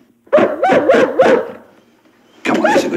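A dog whimpers and yips in a quick rhythmic run of four loud, close cries, falls quiet, then lets out a sustained bark-like whine, with no talking over it, in a 1965 television drama.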